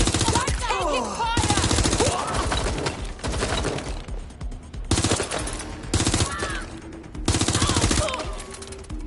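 Heavy automatic gunfire in Watch Dogs: Legion roars in long, loud repeated bursts with short pauses between them, close and dense, while in-game voices call out over the shooting.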